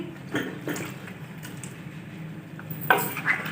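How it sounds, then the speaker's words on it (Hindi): Metal utensil scraping and clinking against a pressure cooker as mutton and spices are stirred, a few irregular strokes close by in a quiet kitchen. "सारी चीज़ों को अच्छे से मिक्स कर देंगे"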